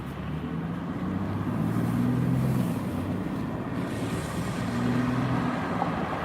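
Steady low rumble of road traffic on an Oakland, California street, engines droning and swelling as vehicles pass close by, with no voices.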